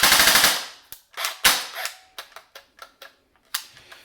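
A JG Golden Eagle M4 CQB airsoft gun fires on full auto in a short rapid burst, followed by a series of sharper single snaps and clicks, loud and close.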